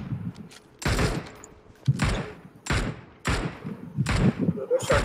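Gunfire in PUBG Mobile, with several loud, sharp shots arriving in separated bursts about a second apart, heard up close.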